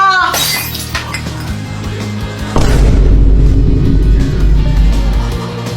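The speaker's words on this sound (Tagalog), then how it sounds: "Nabasag mo yung base ni Mama!" A ceramic vase falls and shatters indoors with a sharp, loud crash and tinkling shards, followed by a heavy low booming rumble that keeps sounding loudly to the end.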